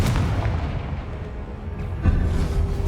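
A Confringo explosion spell goes off in the Hogwarts Legacy video game: a dense, booming blast that rumbles through the clip, with a sharper burst near the end.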